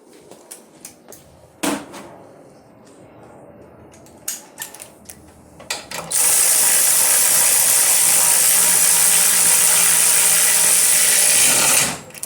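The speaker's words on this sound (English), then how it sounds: "Let me grab my ratchet." A ratchet tightens bolts on a water-to-air intercooler setup in an AWD Honda Civic EM2, first with scattered clicks and clunks, then a loud, continuous mechanical whir lasting about six seconds close by.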